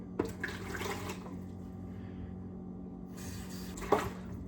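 Water poured from a tap into a bucket for mixing drywall compound, a steady splashing stream that pauses briefly, then resumes with a clunk.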